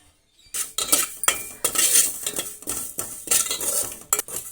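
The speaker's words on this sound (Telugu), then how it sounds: "మెంతులు జీలకర్ర నువ్వుల్ని డ్రై రోస్ట్ చేసుకోవాలండి ఇప్పుడు డ్రై రోస్ట్ చేసుకుందాం" Fenugreek, cumin and sesame seeds dry roasting in a pan, a spatula stirring and scraping them in quick, clattery bursts after a short silent start, close and fairly loud.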